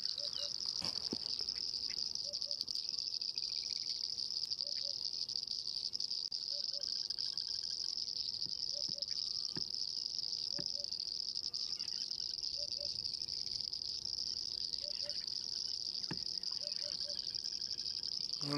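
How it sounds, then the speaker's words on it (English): Rain frogs and painted reed frogs call from a rain-filled waterhole at dawn, a steady dense chorus of insect-like trilling and buzzing with regular repeated chirps, continuous and moderately faint throughout. "Some rain frogs, some painted reed frogs."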